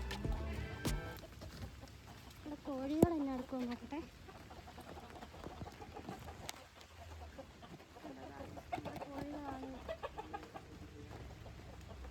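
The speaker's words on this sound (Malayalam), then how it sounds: "പത്ത് മുപ്പത് ദിവസമായ താറാവ് കുഞ്ഞുങ്ങളാണ് ഇതൊക്കെ" A flock of ten- to thirty-day-old ducklings gives scattered high, wavering peeps in short bursts during rainy weather, fairly faint, with voices talking in the background.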